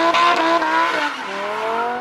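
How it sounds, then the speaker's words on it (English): Honda car on launch control with anti-lag, a loud close engine note held at high revs with rough crackle and a falling pitch as it settles, no talking. "you're probably going to love the sound of anti-lag, two-step, launch control, whatever you want to call it."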